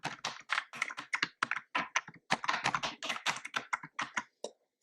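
Rapid, irregular keystrokes on a computer keyboard as an administrator password is typed during a Windows Server 2022 installation, close and crisp with no talking.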